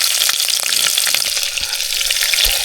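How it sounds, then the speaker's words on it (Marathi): Onion drops into hot oil with whole spices, bay leaf and chilli and is stirred, giving a steady loud sizzle with scraping stir strokes throughout, outdoors at a hill fort. "कांदा कांदा टाकला आता मिक्स करून घेऊया"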